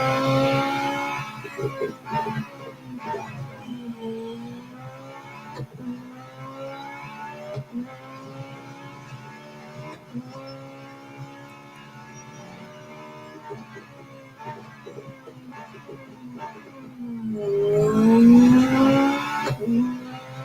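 Racing car engine in Real Racing 3 revving and shifting through gears for about twenty seconds, with tire squeal and a louder surge near the end; no talking.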